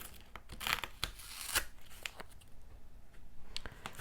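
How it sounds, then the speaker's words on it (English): Close, quiet crackling and ripping as tape is peeled slowly off a grouted mosaic mesh, in short uneven bursts with brief pauses. "I'm going to remove the tape from the mesh carefully."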